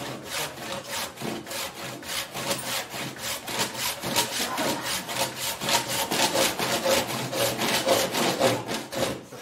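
Steady back-and-forth strokes of a saw cutting through wood, rhythmic and close, with a slightly harsher rasp near the end as it hits a nail.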